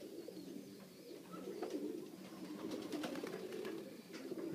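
Pigeons cooing inside a loft, soft low repeated coos from nearby birds over a quiet background, with a few faint higher chirps.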